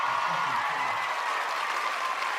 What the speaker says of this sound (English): let's give me some fucking claps